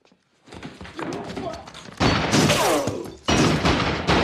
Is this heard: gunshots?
yes